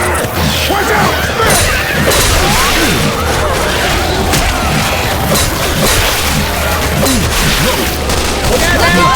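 Teammates in Left 4 Dead 2 fire guns in a dense, chaotic stream of shots mixed with crashing and clattering action noise, loud and unbroken throughout.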